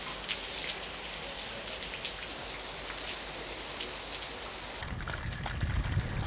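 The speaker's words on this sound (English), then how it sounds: "I've just been caught in a massive downpour" Heavy rain pouring down in the old walled town of Mdina, Malta, a dense, constant hiss of drops on surfaces with scattered pattering. It grows louder and rougher near the end, and no one speaks.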